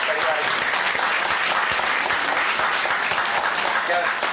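An audience at a house program gives loud, dense applause that stays even and continuous throughout, with voices mixed in underneath.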